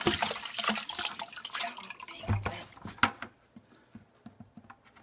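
Water sloshes and pours from a bucket as aquarium gravel is rinsed, a busy splashing stream that trails off into scattered drips and trickles.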